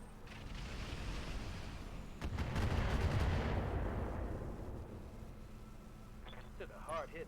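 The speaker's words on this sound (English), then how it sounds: "Just the amount of fucking Inferno missiles they're throwing." Barrage of Inferno missiles launching and exploding in the BattleTech Roguetech game, a dense rumbling roar of blasts that swells in the middle and fades toward the end, with voices talking over it.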